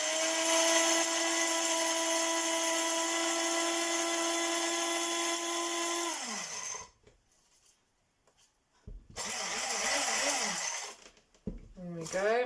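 Electric grinder whirring through hot chocolate powder and sugar, a loud, close, high-pitched steady whine for about six seconds that winds down, then a brief pause and a second short burst.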